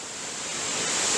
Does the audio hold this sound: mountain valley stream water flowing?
yes